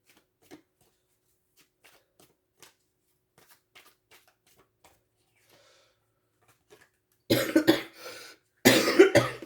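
Tarot cards being shuffled in two brisk bursts near the end, after a long quiet stretch with a few faint soft taps.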